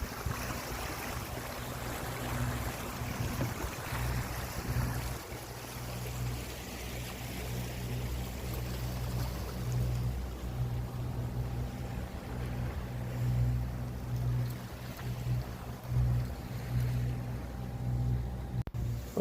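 A sailboat motors under engine on flat seas in steady wind, a low continuous engine hum blended with water wash, faint and unbroken throughout.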